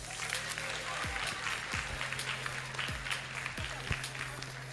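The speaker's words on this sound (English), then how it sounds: "Everyone, please still give them a round of applause." A competition audience applauds in a large hall, a continuous dense clatter of many hands with scattered louder claps and thumps, fairly near and sustained throughout.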